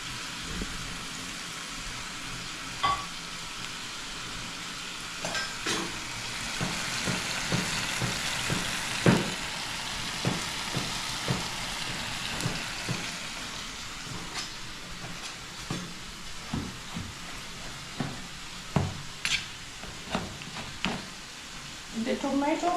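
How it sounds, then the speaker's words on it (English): Tomato simmering with minced meat (keema) and a little added water in a pan, a steady broadband sizzle and bubbling running throughout, with scattered clicks and clatters of utensils on top. "Now I want this tomato to cook nicely."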